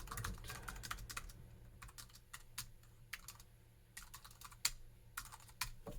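Quiet, close typing on a USB keyboard connected through an adapter to a TRS-80 MC-10 computer, in uneven bursts of clicks and taps, with a brief lull in the middle before the keystrokes resume.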